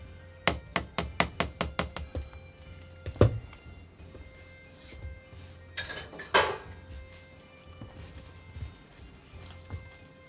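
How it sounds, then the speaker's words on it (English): A spoon stirring honey into a homemade switchel drink in a container: a quick run of rhythmic metallic clinks, then scattered louder knocks and scraping, close and fairly quiet. "You've got to really, really stir it to make sure you get that honey all mixed in."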